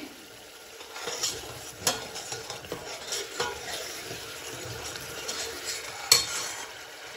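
Cooked potatoes, cauliflower and capsicum are mashed inside a pressure cooker, with soft irregular thuds and scrapes of a masher against the metal pot close by, over faint background hiss.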